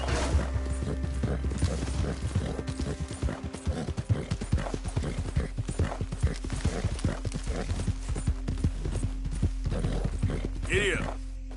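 Horse hooves clip-clop steadily at a trot in the video game Red Dead Redemption, close and continuous, with an occasional whinny near the end, beneath a constant low game background hum.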